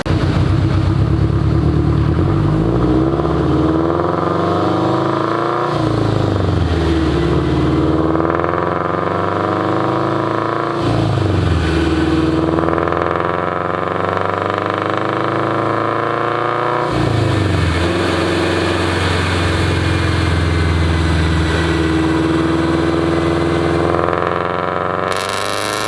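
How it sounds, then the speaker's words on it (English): Turbocharged Subaru BRZ engine revving hard on a dyno, a loud sustained roar climbing through repeated pulls with brief drops between runs, close and continuous. "Your car's loud."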